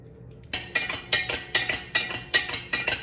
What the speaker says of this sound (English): I'm gonna cut the hydrangea just a little bit so it can actually fit